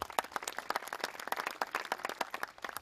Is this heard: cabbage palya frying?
no